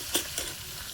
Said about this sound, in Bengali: কিন্তু আমার মাছ ভাজা হচ্ছে